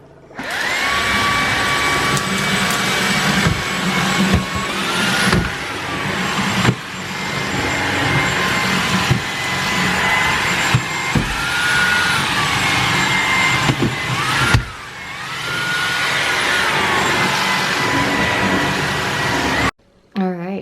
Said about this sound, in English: I wanna vacuum this out and give it a good clean.